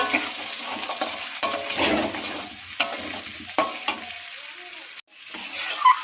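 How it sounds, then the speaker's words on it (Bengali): Pieces of fish and potatoes cook in a curry in a pan, with a sizzling fry under repeated scraping and clinking of a spoon against the metal, then a pause and a short burst of sizzle with a voice. "এই যে কাটা মাছ রান্না হচ্ছে, এই তরকারিটা হচ্ছে"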